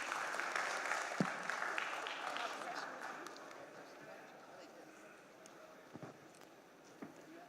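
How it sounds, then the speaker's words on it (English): An audience in a conference hall gives a round of applause after a medical session, the dense clapping strongest at first and then thinning and fading, with a few louder isolated claps near the end. "I think they all deserve another round of applause"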